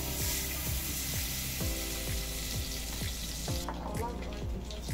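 Pomo (cow skin) frying in palm oil in a pot on the heat for a stew, a steady close sizzle broken by regular scraping stirs and clinks, with no talking.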